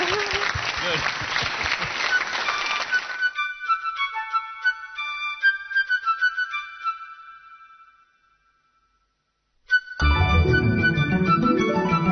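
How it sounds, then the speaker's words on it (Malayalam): An audience claps for singers at a music competition, Vishnu Gandharva Sangeetham 2013, with a dense, loud burst for about three seconds. Tonal chime-like music follows, then a short silence, then music returns. "നമുക്കത് കൈയടിച്ച് പ്രോത്സാഹിപ്പിക്കാം"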